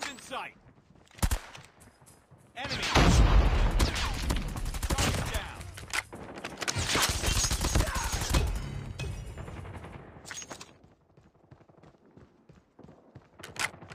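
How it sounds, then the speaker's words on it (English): Rapid bursts of automatic gunfire and explosions in the mobile game Call of Duty Mobile, loud sustained volleys with a few sharp isolated shots before and after, with a voice speaking at times. "I'm wasting tons of ammo here, just firing downrange"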